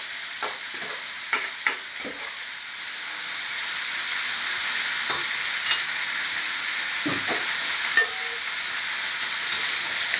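String beans and other ingredients for adobong string beans sizzle in a hot pan as they are stir-fried, a steady close frying hiss broken by a few sharp clicks and scrapes of the spatula, with no voices.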